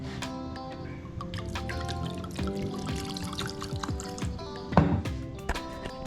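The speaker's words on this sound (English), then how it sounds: "Pour some Hennessy." Hennessy cognac poured into a glass in a home kitchen, a steady close-up trickle of liquid lasting several seconds with a brief louder splash near the end, no talking.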